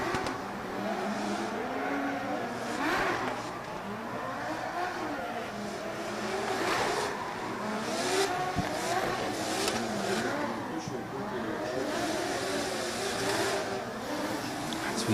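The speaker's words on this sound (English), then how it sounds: "We see Cherba smoking them tyres through that last corner in that last zone and bringing it over the finish line" A drift car at a drift championship qualifying run smokes its tyres through a final corner, with a loud, sustained engine roar that rises and falls as it revs and slides.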